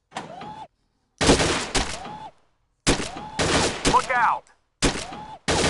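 Scoped rifle gunshots in a PS4 shooting game, several sharp loud bursts separated by silences with mechanical whirring, under brief shouted in-game voices.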